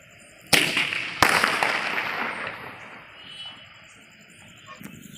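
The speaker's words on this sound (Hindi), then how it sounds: "बम को जलाते हैं। थ्री साउंड को जलाते हैं।" A Diwali "three sound" firecracker goes off outdoors with two loud sharp bangs less than a second apart, a rushing fizz trailing between them, then a fainter third pop a few seconds later.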